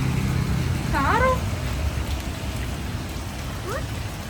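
Steady rain falls in a continuous broadband hiss, fairly close and even throughout, with a short meow-like animal cry rising briefly above it.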